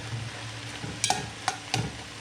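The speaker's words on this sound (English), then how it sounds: "Let this continue to cook." Food for a Viking-style feast cooks in a pan with a low, steady sizzle and a few quick clinks and scrapes of a utensil.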